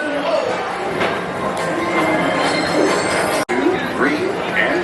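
A Tomorrowland express ride train rolls along with a steady rumble and faint wheel squeal, overlaid by a voice speaking throughout.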